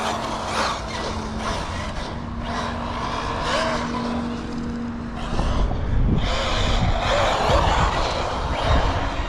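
An Asuga XLR RC buggy drives and jumps over an outdoor run-up, its electric motor whining and rising, with tyres scrabbling and a louder rush of motor noise in the second half.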